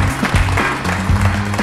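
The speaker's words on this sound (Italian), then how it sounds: "Prenda l'applauso, è il suo!" An audience on a stage show claps, the applause fairly loud and dense with individual hand claps standing out in an uneven rhythm throughout.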